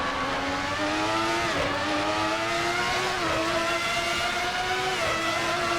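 Ferrari 412 T2 V12 race car on slick tires with big wings, engine held at high revs near 10,000 RPM, a loud, steady, piercing howl with slight pitch wavers and no talk over it.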